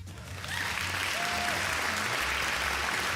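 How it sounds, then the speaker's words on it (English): Steady, dense applause from an audience fills the space from about half a second onward, loud and unbroken, with faint tonal background sounds running underneath. "We'll give that a round of applause."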